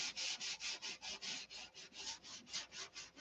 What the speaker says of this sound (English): what I did was the same thing I'm doing here. Is I just sanded the crap out of the wood.